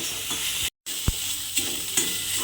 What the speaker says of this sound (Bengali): এই আদা রসুন আর পেঁয়াজ বাটাটা একসঙ্গে একটু ভাজা ভাজা মতো করে দেব